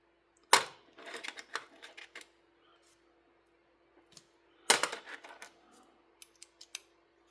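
Bestech Starfighter folding knife having its pivot worked, giving two bursts of sharp metallic clicks and snicks separated by a quiet pause, close and crisp.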